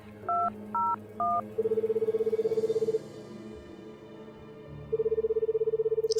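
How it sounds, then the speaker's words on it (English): A phone in a video game dials a hotel room: three quick keypad tones, then a repeating ringback tone that pauses and starts again, clear and alone. "I called Jacob's room."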